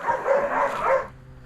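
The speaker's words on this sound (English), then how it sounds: "They like to bark at the neighbors' dogs." A dog barks and yips in a short, muffled burst, a bit distant.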